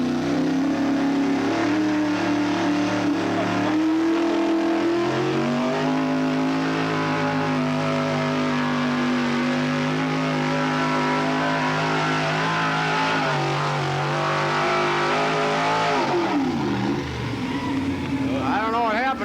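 Racing trucks roar loudly and continuously at a 1986 truck pull event at a track in Waupaca, Wisconsin, engine pitch holding steady then dipping near the end, with an announcer talking over the noise.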